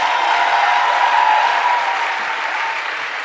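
A church congregation applauds together during a Pentecost service, with dense, steady clapping that holds at an even level for about three seconds without pause.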